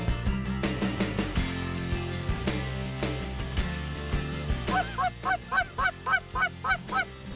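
White-fronted geese, known as specks, honk repeatedly while flying over Saskatchewan fields, a flock of rhythmic calls growing loud and close, with no talk.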